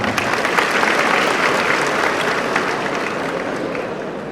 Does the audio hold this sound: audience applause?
yes